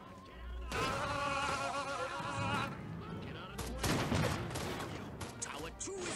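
Rapid gunfire rattles in sustained bursts around a tower in the video game Destroy All Humans!, mixed with game effects and voices underneath.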